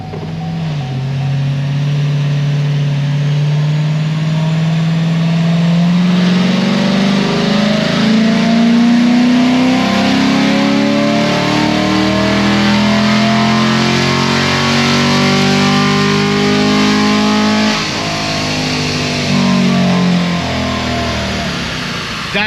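A bolt-on modified car engine holds open throttle through a long power pull, its note climbing steadily in pitch as a loud, sustained rising drone before easing off near the end.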